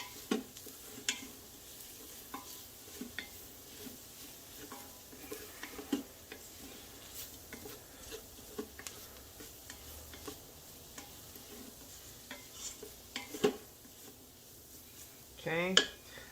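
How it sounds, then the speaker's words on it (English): A wooden spatula scrapes and stirs flour and spices in a pot, producing soft irregular scrapes and light clicks at close range, with a sharper knock near the end. "I'm going to switch to a wooden spatula so I can scrape here."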